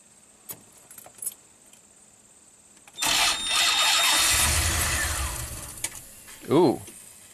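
Keys jangle before a Ram camper van engine cranks weakly after a hot soak, a labored, grinding turnover lasting a few seconds, then a short voiced exclamation nearby.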